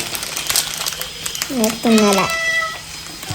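A house cat in a home kitchen gives a couple of close, wavering meows midway, with soft crinkling noise and talk around it.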